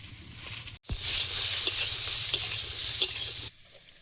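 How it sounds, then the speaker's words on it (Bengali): Pointed gourd fries with salt and turmeric in a hot pan, giving a steady close sizzle with faint stirring scrapes, starting abruptly after a brief clatter and stopping sharply near the end. "পটলটা একটু ভেজে নিচ্ছি লবণ হলুদ দিয়ে।"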